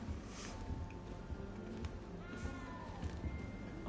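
A small cat meows in the Hogwarts Legacy video game, a few soft mews rising over steady game ambience and low background music, fairly quiet throughout.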